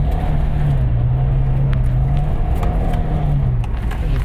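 Suzuki Jimny 1.3L 16-valve 4x4 driving on dirt under light throttle, a steady close engine drone with a slight rising and falling pitch and some scattered crunchy ground noise, no speech.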